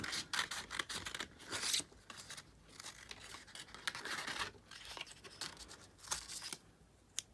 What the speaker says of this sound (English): I'm just going to cut some red out.